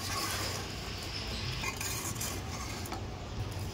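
Balushahi sweets being mixed in sugar syrup, with soft sticky stirring and faint scraping of a utensil against the pan, quiet and continuous at close range.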